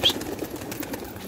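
Pigeons on a rooftop loft, giving soft low cooing and faint rustling close by, continuous through the short moment with a brief higher chirp at the start.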